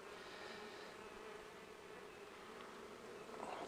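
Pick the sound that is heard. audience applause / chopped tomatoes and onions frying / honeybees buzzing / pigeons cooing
honeybees buzzing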